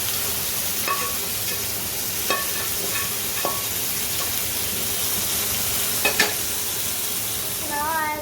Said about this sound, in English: Mix the onion with the tomato puree.